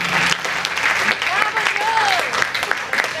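Applause for a singer and his band at a 2015 tribute concert, a steady wash of crowd clapping throughout, with a voice briefly heard over it.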